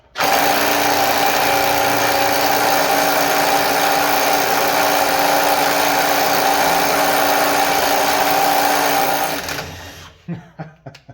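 A Snap-on 3/8-inch mid-torque impact wrench hammers continuously for about nine seconds, loud and close, with a steady rattling buzz before it cuts off and a few clunks follow.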